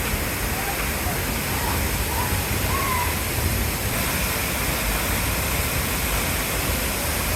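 Ditumabo Mother Falls in the rainforest roars close by, a loud, constant broadband rush of falling water that fills the whole stretch without letup.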